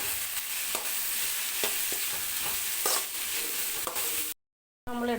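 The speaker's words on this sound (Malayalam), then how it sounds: "ഇനി നമുക്കിതിലേക്ക് നമ്മുടെ ചോറ് എടുത്ത് മിക്സ് ചെയ്യാം." Vegetables and cooked rice stir-fried together in a pan with soy sauce, a steady loud sizzle broken by repeated scraping strokes of a spoon, then a brief cut to silence before the frying resumes.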